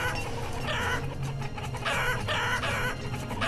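Chickens in the village-building game Banished cluck continuously under a dense, steady layer of ambient game sound and music.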